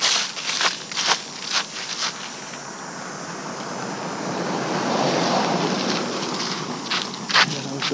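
Steady rain pours in a thunderstorm, with a continuous wash of hiss and a few louder gusty bursts suggesting distant rumbles, heard outdoors with no voices.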